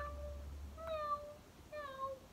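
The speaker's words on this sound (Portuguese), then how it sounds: "Eu queria ser esse som de gatinhos fazendo" Kittens give two short, high-pitched meows a moment apart, fairly soft against a low background hum.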